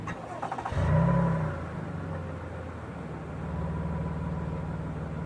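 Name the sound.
2018 Toyota Highlander Platinum engine starting with push-button start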